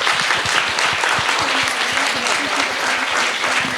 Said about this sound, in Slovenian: Lahko kar aplavz, ja.